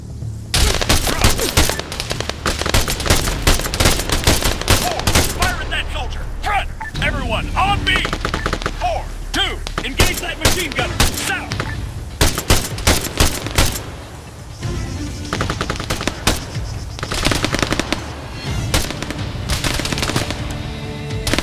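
Dense, loud automatic machine-gun fire from the video game ARMA 3, long rattling bursts overlapping with other gunfire and explosions almost continuously, with voices calling out amid the shooting.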